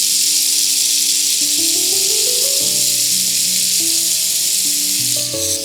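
Sugar melts into caramel with cinnamon in a hot pan, producing a loud, steady hiss and sizzle that lasts the whole stretch, with a soft melody playing underneath.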